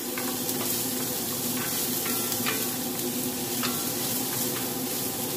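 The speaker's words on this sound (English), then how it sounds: "and I'm going to saute them. Just for a little bit until they crystallize." Vegetables sauté in a hot pan, a steady, even sizzle with faint stirring scrapes and light clicks running throughout, close and fairly quiet with no talking.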